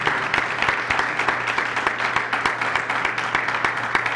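Sustained applause from a seated lecture audience fills the room, a dense even patter of many clapping hands with no voices over it.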